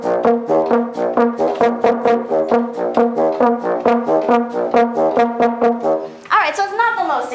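Bassoon and French horn play a supporting part together in short, evenly repeated notes with a steady pulse, close and clear, ending with a brief different sound at the close.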